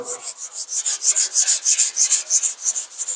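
Hand sanding of 2K primer with light pressure, a close, rhythmic rasping rub of rapid back-and-forth strokes repeating steadily throughout with no voices.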